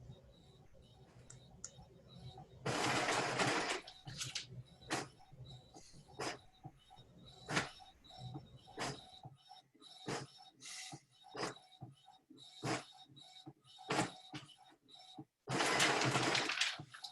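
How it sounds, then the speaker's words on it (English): A home printer activates during an online meeting, producing rhythmic mechanical clicks and short whirring feed bursts, with two louder sustained runs near the start and end, fairly close and with no talk. "My printer just got activated."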